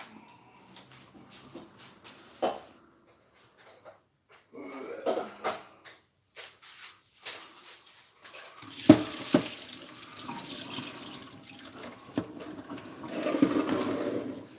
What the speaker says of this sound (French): Donc, les haricots vont égoutter dans ce truc.